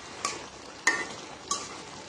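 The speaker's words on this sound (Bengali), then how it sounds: "মাংসটা নাড়াচাড়া দিয়ে দিলাম।" Beef and potatoes in a pot get stirred, three separate metallic scrapes and clinks of a spoon against the pot spaced evenly, quiet and close, with no talk.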